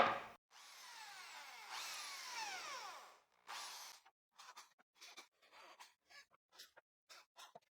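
A drill bores and countersinks 6 mm holes in a wooden piece: a quiet whirring spin-up and sustained cut, then a run of short, intermittent bursts as the bit is pulsed, faint and close.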